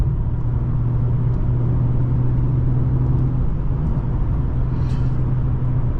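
A 2019 Mercedes-Benz CLS450 4MATIC accelerating hard in launch mode, a loud steady engine drone and low rumble heard from inside the cabin, with road noise underneath and no pauses.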